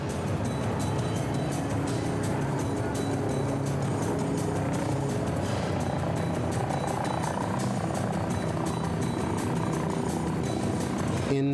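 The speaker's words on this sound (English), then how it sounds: "Rob, who is in control of the helicopter and winds reaching over 80 kilometers an hour, is going to try everything he can to land." Helicopter attempting to land at an exposed sea-level lighthouse helipad in winds over 80 km/h, a steady loud rotor and engine roar with gusting wind noise throughout.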